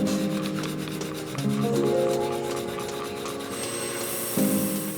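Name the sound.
120 grit slack belt grinding a knife blade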